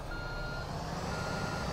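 A truck backing out of a dealership gives a steady high reversing beep over a constant rumble of engine and background noise.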